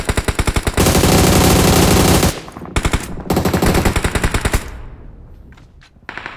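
Loud, dense automatic gunfire from a shooting video game rattles in rapid bursts, stops briefly, resumes, then trails off into a few scattered shots.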